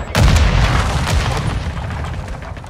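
A grenade explodes in Call of Duty Modern Warfare 2 during a Domination match, a loud close boom that rolls into a long rumbling decay with scattered crackling gunfire underneath.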